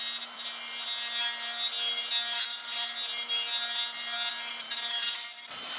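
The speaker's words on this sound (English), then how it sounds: "now let's test how it grinds" A Dremel grinding attachment sharpens the edge of a 3D printed knife, giving a steady, close, high-pitched abrasive whine with a sustained tone that runs continuously for several seconds before cutting off at the end.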